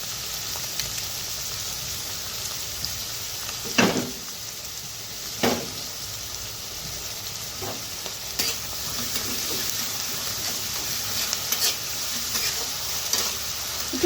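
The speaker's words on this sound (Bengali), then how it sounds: "একটু হালকা হালকা ভাজা হয়ে গেলে আলুগুলো ছেড়ে দেব।" Spices frying in a pan for a Bengali dish of dried loitta fish with pui spinach seeds, a constant soft sizzle broken every few seconds by scraping stirs of a spoon, with no one talking.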